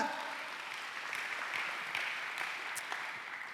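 Faint, steady congregational applause rolls through a church service, a diffuse patter of many hands heard from a distance without a clear rise or fall.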